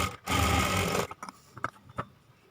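A sewing machine stitches blouse sleeves in one loud, dense burst of about a second, then stops, leaving a few close mechanical clicks and taps.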